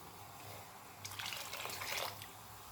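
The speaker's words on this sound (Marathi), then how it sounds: "यामध्ये पाणी घालायचं आहे" A short burst of water pouring into a pot of lentils, splashing for about a second against a quiet background.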